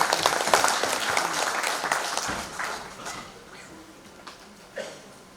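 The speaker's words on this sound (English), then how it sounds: "Friends, join your hands to applaud yourself." Audience applause at a Rotary Foundation symposium and recognition programme, dense hall clapping that starts loud and gradually thins and fades, with no speech over it.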